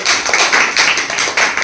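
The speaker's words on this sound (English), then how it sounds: "Please clap your hands for her." A classroom of students claps for a classmate, a bright, dense burst of many hands that swells in several waves and continues throughout, close and loud.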